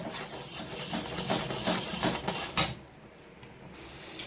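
Raw mango amsatta mixture stirred in a pot, with a steady run of soft scraping and clattering of a utensil against the pot that stops abruptly, leaving near quiet.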